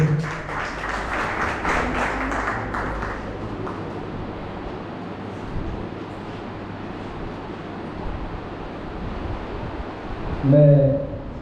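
Audience applause at a teacher-honouring ceremony held by a Rotary Club in Pandhurna, a broad steady clapping that fills the room and slowly thins out, followed by a brief voice near the end.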